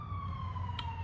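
An ambulance siren sounds steadily as it passes, a sustained wailing tone over low traffic rumble, with a brief burst of higher noise partway through.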